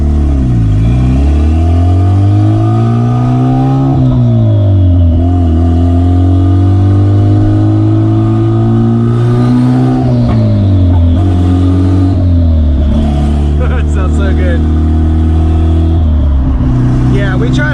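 A loud turbocharged car with an open downpipe and billet-wheel turbo accelerates hard, pitch climbing and falling through several gear changes with a raspy exhaust drone, continuous and close.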